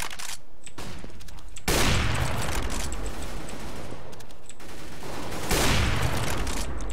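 AUG rifle fire in Counter-Strike on de_nuke: sustained automatic bursts, loud and close, two long volleys with a short gap and a brief pause between them.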